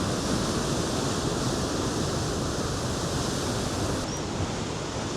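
Ocean waves break against rocks at Ipanema Beach, a loud continuous roar of surf and churning foam filling the whole span with no pause, close to the listener.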